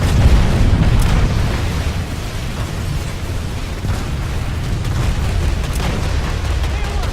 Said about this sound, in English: See both cannons firing up that way.